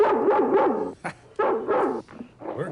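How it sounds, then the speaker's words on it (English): A dog in an old black-and-white film barks and yips in a few quick, loud bursts with short pauses, fairly close and not under talk. "Oh, that dog."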